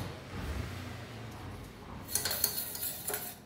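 Metal spoon scraping and clinking against a pan while coffee premix is stirred continuously over a low gas flame, soft clatter starting faint and growing busier and louder in the second half.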